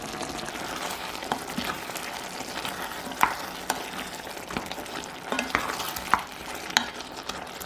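Tomatoes simmering in a pot are stirred with bay leaves, basil and chili powder, giving a steady soft bubbling and sizzle under scattered sharp utensil clinks and scrapes, with no talk.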